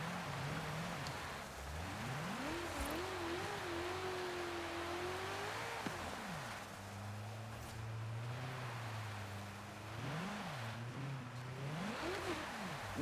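A Ferrari J50 in Forza Horizon 5 driving on ice, its engine note rising and falling steadily with revs, continuous and moderately close under a wash of tyre and surface noise.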